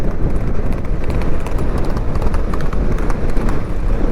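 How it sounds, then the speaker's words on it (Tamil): Horse hooves clip-clop rapidly on a road as a horse cart runs, a loud, dense, continuous clatter of quick hoofbeats heard close by. "அட்டா பார்த்தீங்கன்னா குதிரை அச்சு ஓட விடுறாரு."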